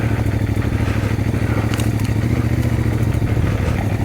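A CFMOTO MT450 motorcycle's engine runs at a low, steady idle-like rumble while the bike crawls along slowly, loud and close throughout, with faint mechanical clatter and no talking.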